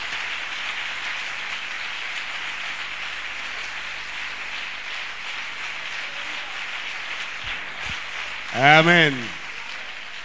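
A church congregation claps for the Lord in a broad, steady patter of many hands, moderately loud and continuous, ending with a single voice calling out near the close.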